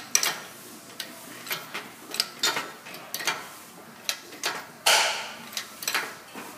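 A hand crank ratchets in short, irregular clicks and clunks while a Saab 9000 powertrain is pulled out, each pull bringing a sharp burst, with one heavier clack partway through.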